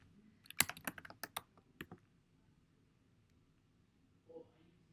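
Keys clatter on a computer keyboard in a quick burst of close, crisp taps lasting about a second and a half, followed by quiet with a faint soft sound near the end.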